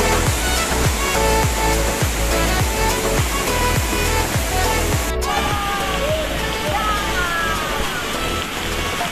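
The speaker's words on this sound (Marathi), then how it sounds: "मित्रांनो, धबधब्याच्या जवळ आलोय बघा" Navlai waterfall, a natural cascade, roars nearby as a loud, unbroken rush of falling water, steady and broadband, with no clear voices.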